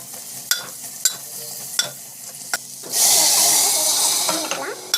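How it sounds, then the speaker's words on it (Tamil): A spoon clinks rhythmically against a pan, several sharp taps in a row, then a loud hissing sizzle takes over as a beetroot mixture is stirred. "ஜஸ்ட் வந்து மிக்ஸ் பண்ணிக்கலாம்"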